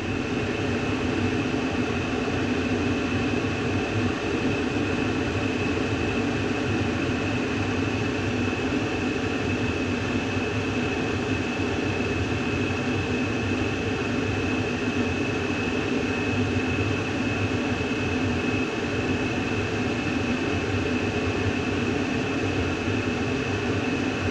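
A Mr Heater compact furnace runs a start attempt with no gas reaching the valve, a steady, even mechanical hum and blower whir held continuously throughout, close and constant with no talk.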